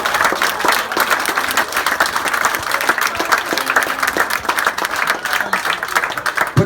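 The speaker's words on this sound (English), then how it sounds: "And can we have a big round of applause for Andy for all his efforts over the last 4" Loud, close applause at a youth football under-10s presentation evening, many hands clapping in a lively, uneven patter that continues for several seconds in an indoor room, with no speech on top.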